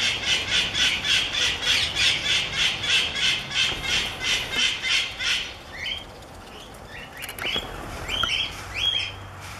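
Patagonian mara from Argentina at a wildlife park giving a strange warning call: a run of rhythmic, pulsing squeaky calls, then scattered sharper chirps and squeals, fairly close with no talking.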